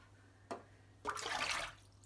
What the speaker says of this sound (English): This is very hot water, straight from the tap.